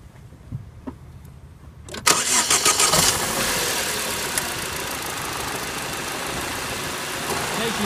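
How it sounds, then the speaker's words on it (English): A car engine cranks briefly and catches during a starter test on a 6, 8 and 12 V battery system tester, then settles into a steady, fairly loud idle close by. "So we go to starter, and it then advises us to start the engine."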